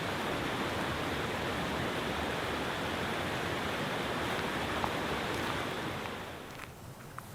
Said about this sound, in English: Let this refreshing forest flow wash away all your worries, and let its sounds help you feel at one with nature